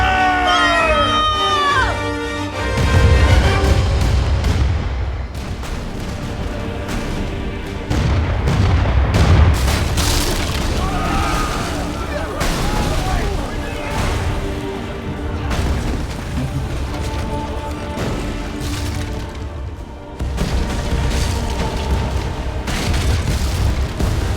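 Cannon fire and explosions in Kingdom Hearts III: deep booms and blasts recur through a long stretch beneath a busy mix of game music, crashing effects and occasional voices.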